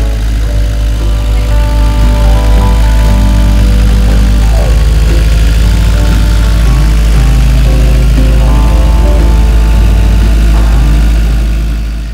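A motorboat engine drones continuously at an even pitch, a low rumbling idle that stays loud and unbroken throughout.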